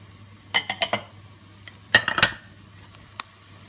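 Sweet potatoes and courgettes stirred in a cooking pot, with a few close clinks and scrapes in two short bursts over a faint steady hum.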